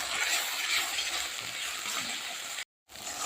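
Ginger garlic paste with a little salt cooking down in hot oil for a hotel-style paneer gravy curry, giving a steady, close, broadband sizzle that holds evenly, with one brief dropout near the end and no talking.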